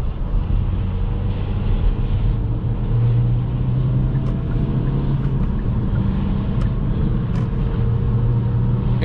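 A 2020 Kia XCeed climbs a hill at night, heard from inside as a steady, low engine and road rumble with constant tire noise and a few faint clicks, with no one talking.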